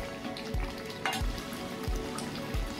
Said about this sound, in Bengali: সমস্ত মশলা যেন মাংসের গায়ে লেগে যায়, সেরকমভাবে কষিয়ে নিতে হবে।